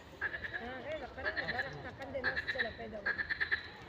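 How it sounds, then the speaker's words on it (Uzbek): Frogs croaking by a wet, watery spot outdoors, repeated bursts of rattling calls from several animals close by, with people talking over them. "Qurbaqalar."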